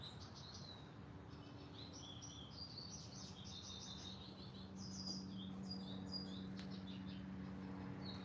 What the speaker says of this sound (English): I love the bird. The sound of all the birds